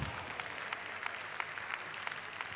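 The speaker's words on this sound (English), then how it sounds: "I didn't ask them to clap for you, but they're doing just that." Audience applause at a bridal fair and marriage conference, a steady wash of many hands clapping with scattered sharper claps, moderately loud and continuous with no talking over it.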